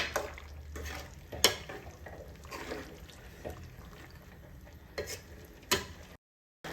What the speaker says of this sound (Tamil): புளி ஊற்றுனதுக்கப்புறம் இந்த மாதிரி வந்து மிக்ஸ் பண்ணி விட்டுருங்க